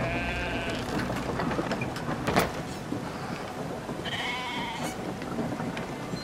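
Sheep bleat in Brothers: A Tale of Two Sons, a couple of drawn-out calls over a steady rumbling background of rain-like noise.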